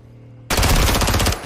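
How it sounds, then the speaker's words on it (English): Loud burst of automatic machine gun fire in the video game Call of Duty: Modern Warfare 2, erupting suddenly after a quiet hum and rattling continuously for about a second before cutting off. "Right, well, I did shoot that guy."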